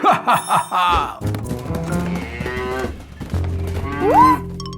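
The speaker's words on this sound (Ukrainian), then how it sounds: "Корова!" A cow moos in a long, low call during a children's card game, mixed with bright, toy-like chimes, a bell ring and playful electronic tones.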